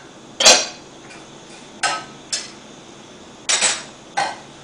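A metal pot of popcorn kernels shaken over a hot stovetop burner, giving several separate sharp metallic clanks and rattles spaced irregularly, loud and close against a quiet background.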